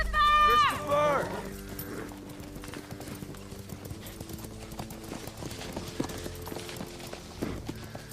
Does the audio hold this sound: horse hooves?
yes